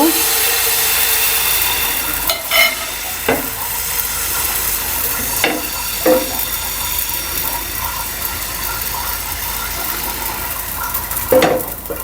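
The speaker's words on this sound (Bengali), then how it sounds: "এরকম অল্প একটু ব্যাটার নিয়ে আমি প্যানে দিয়ে দিব" Thin batter for patishapta pitha hisses steadily in a hot pan, with a few sharp clicks and scrapes of a utensil over the sizzle.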